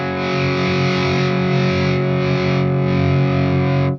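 An electric guitar plays through a SMIRMOOR SAULE distortion pedal set with the gain down and the volume boosted, giving a loud, sustained, dense chord for about four seconds before cutting off abruptly.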